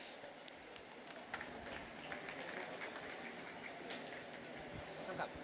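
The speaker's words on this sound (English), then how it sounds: "can we give a round of applause to this team called Existential Engineers?" An audience at the T4G Festival, an engineering event on wheelchair innovations, claps for a team in a steady, moderately loud round of applause with dense clatter throughout.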